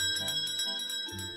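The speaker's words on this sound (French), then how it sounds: "Elle fait sonner la cloche pour rassembler les habitants du village." A bell rung to call village inhabitants together, heard as a few repeated bright metallic strikes with ringing overtones, fairly close and clear with no voices.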